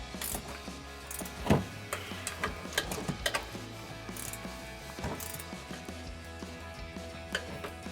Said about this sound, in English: So I'm gonna take my 15mm ratcheting wrench and just tighten these down.